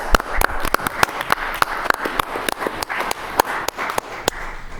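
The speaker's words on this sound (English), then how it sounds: "I want to thank you all and give you all a round of applause too" A round of applause from the audience at a city council meeting, steady rapid clapping from many hands throughout, fairly close and continuous, with no talking over it.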